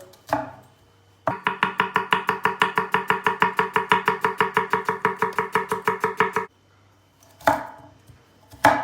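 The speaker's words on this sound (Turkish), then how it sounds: "Bir tane orta boy soğan doğrayacağız." Rapid, steady knife chopping of a medium onion on a board, dozens of even strokes in a quick rhythm, close by, with a few isolated knocks before and after.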